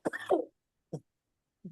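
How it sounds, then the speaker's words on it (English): A man coughs during an interview: one rough, throaty cough followed by two short, quieter coughs with silence between them. "Excuse me, I'm fighting this cough."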